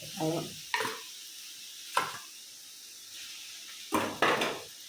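A few separate scrapes and knocks of a spoon in a pan as dal curry is mixed into drumstick leaf thoran, with quiet gaps between the strokes and a faint low sizzle.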